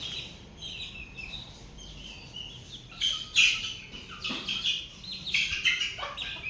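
Three-week-old chicks chirp and peep in short, bright bursts that grow livelier toward the end, over a steady hum of background noise.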